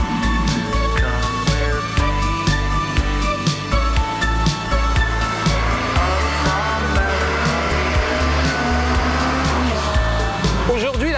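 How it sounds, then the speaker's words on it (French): Ferrari 360 Spider convertible engine revving hard and accelerating, its pitch climbing and dropping again at each quick gear change, loud and close throughout. "vous entendez sans doute quand on passe les vitesses, on a le temps d'entendre le changement de vitesse"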